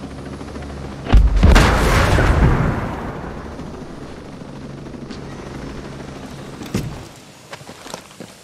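A helicopter is destroyed in the video game Ghost Recon Wildlands: a loud explosive boom hits suddenly, then a long roaring rumble fades out, followed by a smaller later crack and scattered debris noise, with no talk.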